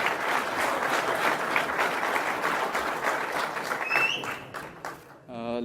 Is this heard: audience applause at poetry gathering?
yes